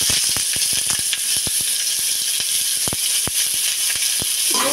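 Chopped onion, garlic, ginger and green chilli fry in hot oil in a wok, giving a constant bright sizzle broken by frequent sharp pops and crackles.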